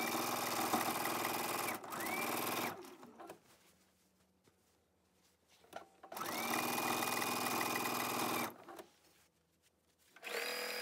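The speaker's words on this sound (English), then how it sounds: "So now we can keep going and just stitch all the way around the edge." A sewing machine stitches binding around the edge of a quilt in two long, steady bursts of close, loud whirring, each ending in a brief rising whine, with quiet pauses of fiddling and faint clicks between them.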